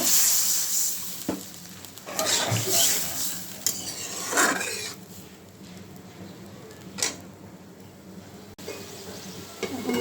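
Spice masala sizzles in a pan as water goes in, bursts of hissing and bubbling rising and falling with a few utensil taps, close by.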